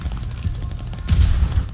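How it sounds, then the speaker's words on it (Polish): Gunfire in the World War II shooter Call of Duty: Vanguard on PC, a dense burst of heavy shots and thuds with a louder cluster of impacts in the second half, loud and close. "pięknie trafiony strzał, niczym seria Sniper Elite"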